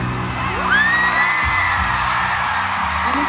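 A packed stadium crowd at a concert screams and whoops continuously, a loud, dense roar with a rising cheer cutting through.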